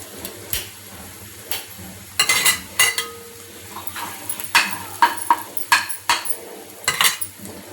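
Eggs go into a pan of fried onions and get stirred, giving scattered metallic scrapes and clinks of a spoon against the pan, irregular and close, over a soft background.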